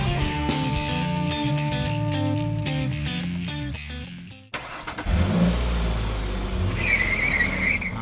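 Music plays first, then a Toyota Hilux 2.8 Black Edition pickup truck drives, a rumbling engine and road noise rising to fill the second half.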